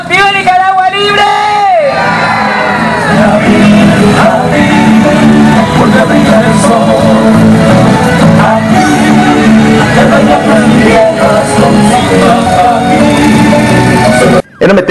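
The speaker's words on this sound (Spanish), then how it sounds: "gritamos a una sola voz: ¡Viva Nicaragua Libre!" A large crowd at a Nicaraguan protest rally shouts a slogan in unison, followed by loud, sustained cheering, whooping and overlapping yells close by.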